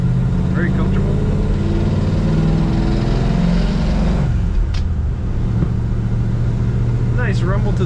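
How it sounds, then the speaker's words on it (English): Engine rumble from a 1950 Mercury two-door street rod while driving around a corner: a steady, moderate low drone with road noise that settles partway through. "Nice rumble to this car, not too loud,"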